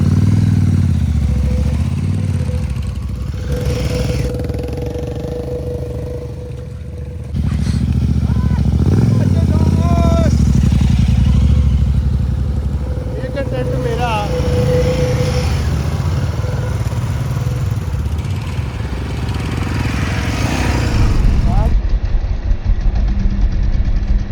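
A motorcycle rides along a scenic road toward a dam in Punjab, its engine droning loud and steady under heavy wind rush, with people talking over it at times.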